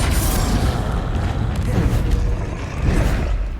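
A Confringo spell blast in Hogwarts Legacy erupts as a loud, low booming explosion with rumbling debris, followed by a second fainter burst near the end.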